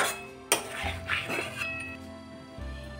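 Okra curry sprinkled with kasuri methi is stirred in a pan, giving a few close metallic clinks and scrapes of a spoon against the pan, with the gas switched off.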